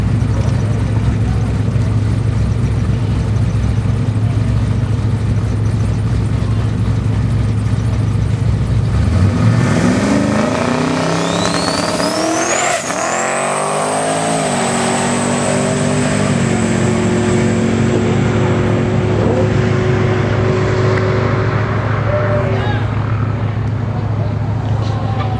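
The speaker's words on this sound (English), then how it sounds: "Justin Orr, the 89 Chevrolet Camaro turbo vehicle." A twin-turbo 1989 Chevrolet Camaro street car makes a drag run at Pittsburgh Raceway Park, heard as a steady engine drone that swells into a loud, rising roar and whine, then settles back under constant track noise.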